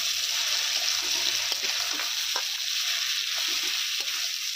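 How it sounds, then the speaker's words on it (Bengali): Washed rice is turned through frying masala in a wok, a steady close hiss of sizzling with occasional soft scrapes and knocks from the stirring spoon, no talking. "এবার ধুয়ে রাখা চালগুলো দিয়ে কিছুক্ষণ নেড়ে নেব"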